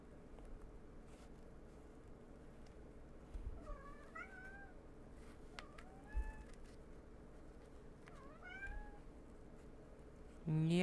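A cat meows several times in a room where upcycled obi and kimono bags are being sewn, the calls fairly close and rising over a steady low hum of background noise.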